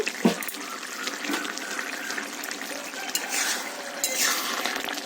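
Water is poured into a pot of cooking rice for a puffed rice dish, making a steady rushing, splashing stream that lasts the whole stretch.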